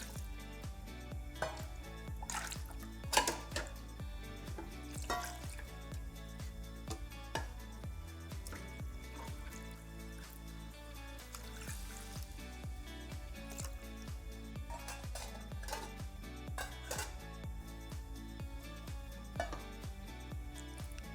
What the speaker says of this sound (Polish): Łączymy ze sobą wszystkie składniki w jednym naczyniu